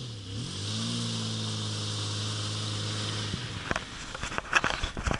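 A used budget car revs hard at full throttle in snow with traction control on, a steady loud engine drone that holds and then cuts off, followed by a few knocks and clunks.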